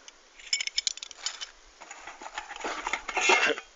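Pieces of a five-piece camping cookware pot set clink and rattle as they are handled, with a lid that doubles as a frying pan and a pan grip; several close, bright metallic knocks and jangles come in quick bursts.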